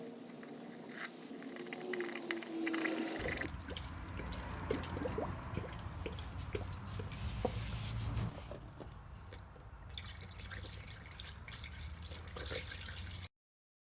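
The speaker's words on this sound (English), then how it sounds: "You want to slowly fill the radiator." Coolant trickles slowly into a car radiator, a soft continuous pouring and gurgling with faint drips, close and steady, over a low background hum.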